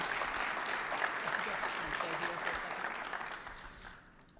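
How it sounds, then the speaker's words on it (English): Conference attendees at a mental health and leadership panel give a round of applause, a sustained even clatter of many hands that holds steady for several seconds, then thins and fades out near the end. "can we get a round of applause for this amazing panel and Patrick via Zoom?"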